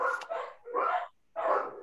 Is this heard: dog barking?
yes